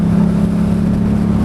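A tuned car with an upgraded exhaust, upgraded intake and ECU tune drones loudly and steadily under throttle. The close, continuous engine note holds an even pitch with no talk.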